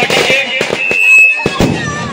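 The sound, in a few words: firecrackers bursting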